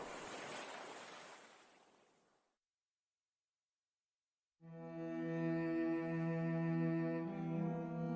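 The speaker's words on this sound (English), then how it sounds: "found the sound of the waves quite soothing and peaceful" Ocean waves wash in a broad rushing surge that fades out to silence, after which a sustained tonal drone with layered harmonics takes over.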